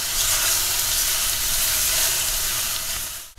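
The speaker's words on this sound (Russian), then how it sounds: "добавляем килограмм куриного филе. И, конечно же, перемешиваем." Kilogram of chicken fillet sizzling loudly in a frying pan while being stirred, a steady close hiss of frying fat throughout with no talk.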